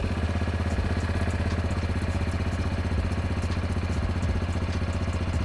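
Loncin XWolf 700 ATV single-cylinder engine running at a steady idle with a standard muffler, an even low thumping with light mechanical clatter, close and continuous, no voices.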